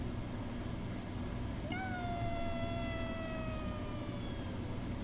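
A single drawn-out, cat-like meow sound effect from a FNAF fangame, a sliding tonal cry lasting a few seconds over a steady hum of background noise.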